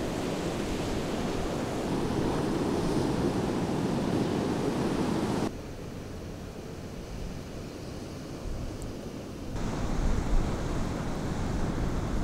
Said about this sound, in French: On a pu faire des siestes avec le bruit des vagues pour nous bercer.